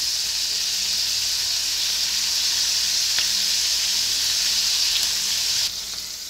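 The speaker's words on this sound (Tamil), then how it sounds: "இந்த மாதிரி பொறுமையாக எல்லா காலிஃப்ளவரையும் நல்லா ஃப்ரை பண்ணி எடுத்துக்கோங்க." Cauliflower florets frying in hot oil for a dhaba-style masala hiss and sizzle loudly and continuously, close by, with a faint clink near the end as the sound drops slightly.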